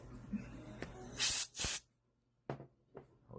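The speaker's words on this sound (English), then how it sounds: "Always have canned air on hand." Canned air sprays in two loud, short hissing bursts, one right after the other, near the mic. A few faint clicks and handling sounds follow in an otherwise quiet room where a custom watch is being assembled.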